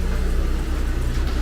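A Mercedes-Benz engine idles after a cold start in a garage bay, a loud, close, steady rumble with a faint rhythmic low pulse throughout.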